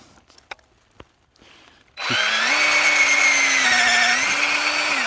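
A power drill bores holes into a dead birch log to take shiitake spawn, starting abruptly after a few faint knocks and then whining steadily and loudly close by, its pitch dipping slightly partway through.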